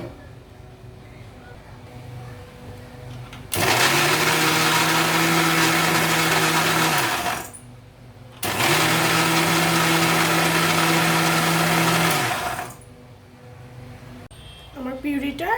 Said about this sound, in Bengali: আমি আমটাকে কেটে নিয়েছি, এটাকে এখন পিউরি করে দেব